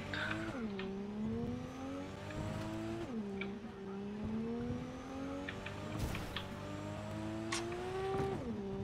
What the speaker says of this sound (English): Damn, this car really screams.